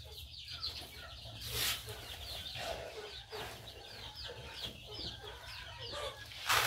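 Backyard laying hens cluck and chatter in a repeated, uneven rhythm at close to moderate range, with a person speaking softly now and then.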